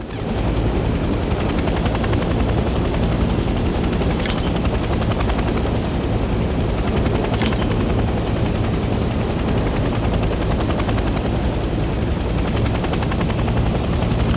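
Helicopter in flight in the Hell Let Loose Vietnam video game, a loud steady rotor and engine drone throughout with a couple of brief sharp clicks.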